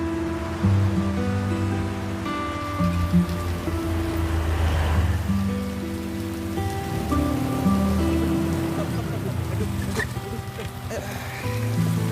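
Steady rain falls on surfaces outdoors, a dense continuous patter lasting throughout with a dull background rumble and layered tonal noise over it.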